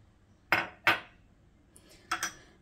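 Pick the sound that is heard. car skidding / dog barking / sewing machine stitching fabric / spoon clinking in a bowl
spoon clinking in a bowl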